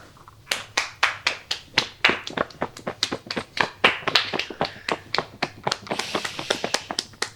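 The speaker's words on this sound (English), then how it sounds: "now stand up and clap for everyone" An audience stands and claps for the guests of a live music show, a burst of many hands applauding in fast, uneven bursts that swell briefly and then trail off, with no talk over it.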